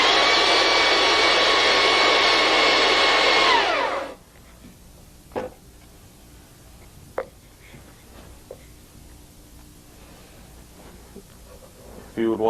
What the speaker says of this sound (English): we'll use a flat sander